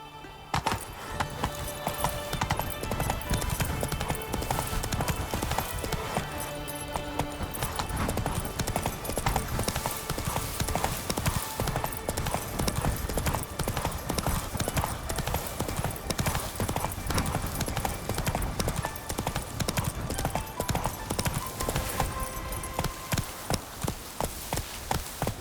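Hooves of Roach, the horse in The Witcher 3, drum in a steady fast clip-clop rhythm throughout, loud and close, with an occasional whinny and game music or ambience underneath.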